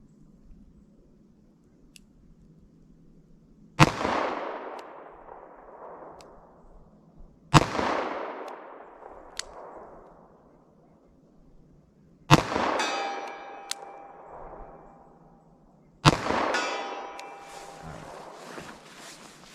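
Four loud 10mm pistol shots with cheap Serbian PPU ammunition ring out at an outdoor range, spaced several seconds apart, each a sharp crack followed by a long rolling echo that fades between shots.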